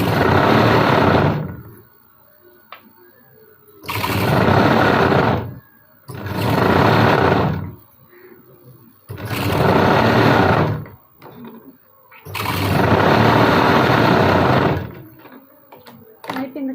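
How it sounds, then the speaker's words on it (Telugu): A sewing machine stitches a lined blouse in five loud, close bursts of rapid whirring, each lasting one to three seconds, separated by short quiet pauses with faint handling noises. "ఇటు సైడ్ కూడా అలానే కుట్టేసుకుందామండి."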